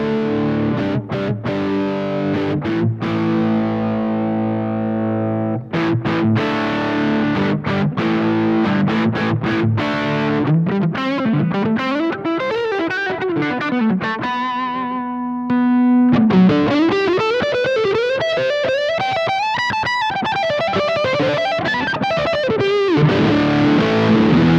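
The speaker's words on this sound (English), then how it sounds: "So now let's try the direct out and see how it sounds going to a mixer board." Electric guitar plays through a Hughes & Kettner Tubeman mk2 preamp from its direct output into a mixer: distorted chords ring out, then a sliding melodic lead line with sustained notes fills the passage loudly.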